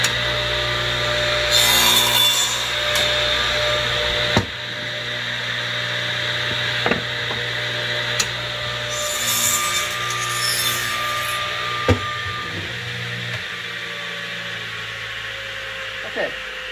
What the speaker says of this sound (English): So now I'm going to cut my tenons on my actual pieces.